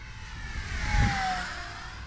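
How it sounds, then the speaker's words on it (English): An FMS P-51D Mustang 1100mm RC sport plane on 4S power flies at full throttle into the wind, its electric motor giving a steady, moderately loud whine that swells as it passes near, with no talk. "Let's go full throttle here against the wind."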